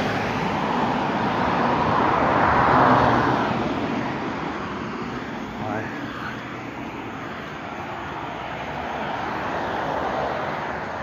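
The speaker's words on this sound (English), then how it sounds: "Cops driving around this area." Police cars driving around a residential neighborhood near a police department, a broad passing engine and tire rumble that swells and fades slowly at moderate distance.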